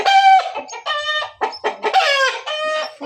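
Several roosters and chickens in a newly built cage or coop cluck and squawk loudly and close by, in quick overlapping bursts.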